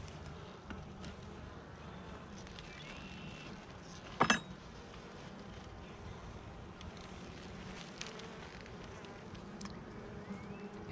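Honeybees buzzing around an open hive during an inspection, a faint steady drone of many insects with a brief close clinking knock midway and scattered small taps.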